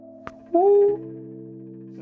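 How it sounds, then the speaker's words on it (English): A filtered electronic music loop in FL Studio, sustained tones sweeping upward as a filter opens, then settling into a steady held chord with a brief click at the start and end. "I just play with the filter, then it sounds like this now"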